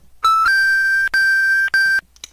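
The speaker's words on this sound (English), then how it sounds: "Let's see the type of music we can make using the Mario 1-Up." The Super Mario 1-Up video game jingle, retuned into musical pitches: a clean, bright electronic sequence of short sustained tones, a brief low note followed by three longer held notes, played alone.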